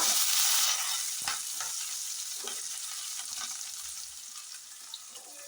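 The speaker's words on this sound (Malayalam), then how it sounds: "പയറിട്ട് കൊടുക്കാം." Green beans dropped into a hot pan for thoran: a loud burst of sizzling at first that settles into a steady fry, with occasional stirring scrapes.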